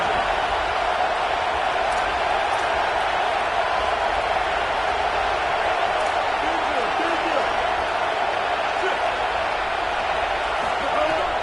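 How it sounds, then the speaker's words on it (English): A home crowd roars without a break at a Texas A&M versus Texas college football game. The dense, far-off cheering fills the whole stretch, with a voice talking over it. "Big 3rd down as the crowd gets behind this defense."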